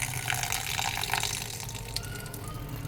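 Water pours steadily into a blender jar holding rice and a few green chillies, a continuous close splashing trickle lasting the whole moment with no speech over it.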